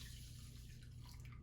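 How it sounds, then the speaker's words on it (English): Water poured into a bowl holding half a cup of rice, a steady close splashing and trickling stream lasting the whole moment with no talk. "And then I'm going to add about half a cup of water."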